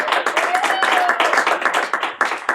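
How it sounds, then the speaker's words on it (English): A comedy club audience claps and cheers for a comedian, a close, loud stretch of rapid clapping with a few whoops mixed in. "give a round of applause."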